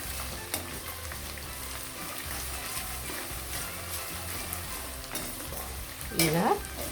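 Onions frying in oil with salt for veg fried rice, stirred in the pan: a continuous close sizzle with irregular scraping and tapping of the spatula, louder clatter near the end, and no voices.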